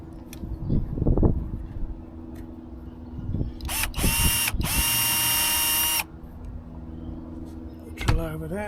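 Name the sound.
drill running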